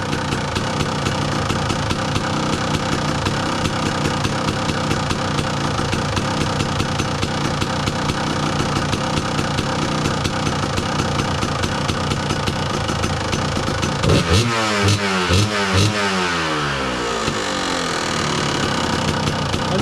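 Warm 2002 Kawasaki KDX 200 two-stroke dirt bike engine idling steadily up close, a continuous loud buzzing run with a brief throttle blip and wavering pitch near the end, no talking.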